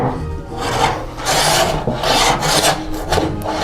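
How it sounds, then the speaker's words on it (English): A hand plane is pushed along a two-inch-thick wood board in rhythmic strokes, each a close, loud rasping shave with brief pauses between passes. "I'm going to take a hand plane here and hand plane it a little bit so that I can see the grain"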